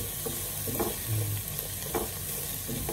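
Ingredients for chicken tinola sautéing in a pan, a steady close sizzle with rhythmic stirring and scraping strokes, no voices.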